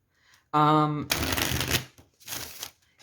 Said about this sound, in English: Let me just do a quick riffle shuffle.